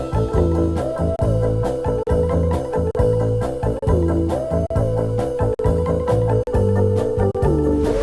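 Beat built in FL Studio from a longer sample chopped into 16 slices, looping with punchy kicks, a steady groove and a recurring melodic phrase, loud and close with no talk.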